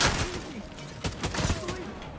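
Gunfire in The Division 2 video game: a dense, rapid run of sharp shots with no clear pause between them, loud and close, with a voice briefly heard underneath.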